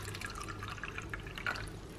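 Water runs into a mini washing machine for cleaning beauty blenders inside a kitchen, a steady close pour with faint drips under it and no talk.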